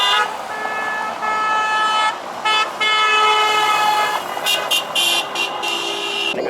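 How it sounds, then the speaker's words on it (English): Street traffic in Ukraine with car horns tooting repeatedly, several short honks standing out over a steady background hum of engines and crowd. "I can already hear the cars and see the people."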